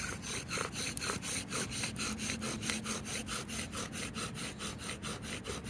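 A wooden bow drill spins hard against a wooden board to make friction fire, producing a steady, rhythmic back-and-forth rasp of wood grinding on wood, close and continuous with regular strokes about three per second.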